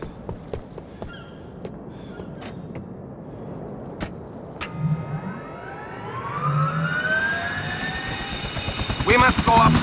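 Helicopter rotor and engine in the video game GTA IV: The Ballad of Gay Tony, building from a low rumble to a louder whine with sharp clicks early on and a rising tone toward the end, under brief talk.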